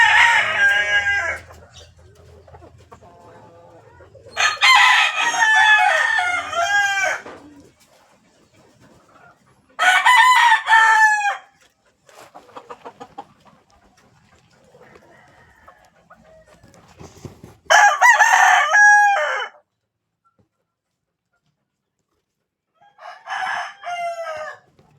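Chickens crowing and clucking in loud bursts, several separate crow calls spread through the span with quiet gaps between them.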